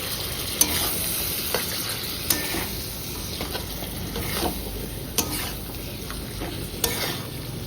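Mutton, unmarinated and plainly cooked, frying in a pan with a steady sizzle and occasional sharp clinks of a spoon stirring against the pan, close and without speech.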